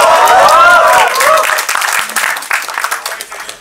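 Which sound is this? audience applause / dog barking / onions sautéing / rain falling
audience applause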